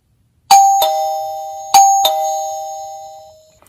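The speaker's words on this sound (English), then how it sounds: "just to show you what the chime is like" A KAMTRON video doorbell's wireless chime plays two ding-dong rings, bright and close, each pair of tones fading out slowly in a quiet room.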